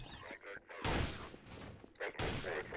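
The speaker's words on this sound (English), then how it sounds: "Where's that gunfire right here?" Bursts of rapid gunfire in the video game Garry's Mod (The Hidden) crackle loudly in two stretches, with quieter game noise and faint voices between them.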